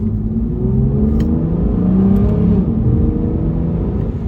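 An Aston Martin DB9 pulls hard through its gears, a loud, close, steady engine drone with a rising tone and no talk over it.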